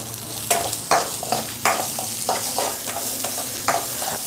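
Chopped garlic sizzles and frys in a pan of hot oil for a Tamil tangy kuzhambu, with a spatula stirring and scraping in a steady rhythm of repeated close, distinct strokes over continuous crackling.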